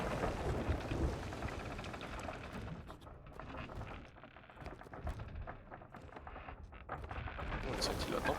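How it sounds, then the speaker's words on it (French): Stormy weather in Sea of Thieves, a steady wash of rain and rumbling noise with a deep low boom near the start, heard under players talking over voice chat. "On a senti la tempête."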